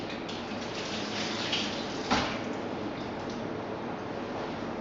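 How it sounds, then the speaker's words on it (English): Small baby mushrooms rinsed under a running kitchen tap, giving a steady, even hiss of flowing water with a brief splash midway as they are moved in the stream. "I'm going to give these a quick wash."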